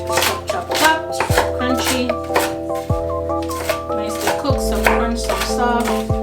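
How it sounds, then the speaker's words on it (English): Repeated knife chops through crunchy cooked bacon on a cutting board, crisp and close, in an uneven quick rhythm under background music. "so then we're gonna go into chopping our bacon"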